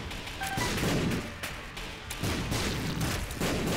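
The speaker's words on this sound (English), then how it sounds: "Why am I running towards my explosions?" Video game explosions from The Binding of Isaac: Afterbirth+ burst repeatedly in quick succession, dense booming blasts layered over steady game sound, with no talking.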